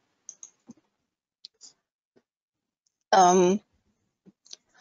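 A few faint, sparse computer mouse clicks in a quiet room, with a short burst of talk in the middle.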